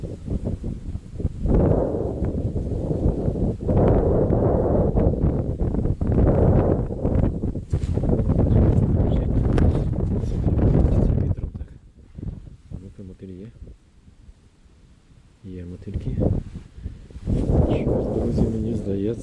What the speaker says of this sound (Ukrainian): Ох, вітер, друзі, розгулявся.